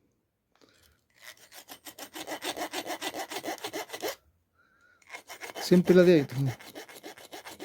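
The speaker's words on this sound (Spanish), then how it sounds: "Estoy limando donde ya marqué ya." A hand file rasping a groove into metal wire to make a crochet hook, with steady back-and-forth strokes in two close, loud bursts and a brief pause between them. Someone speaks briefly during the filing.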